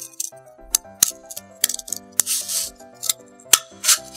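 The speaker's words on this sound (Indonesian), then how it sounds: "Roll tisu bekasnya kita akan gunting." Scissors snip through a used cardboard toilet paper roll in a series of sharp, close crunching cuts at an irregular rhythm, with faint metallic ringing and rustle between the snips.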